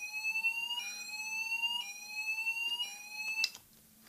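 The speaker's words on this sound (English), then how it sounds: "just gonna do mini fire alarm test" Mini fire alarm sounding during a test, a repeating electronic tone that steps between pitches about once a second for several cycles before cutting off abruptly, near and fairly clear.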